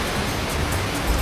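Turbulent river water rushes over rocks in a steady, loud broadband roar, close and continuous with low rumbling surges, no voices.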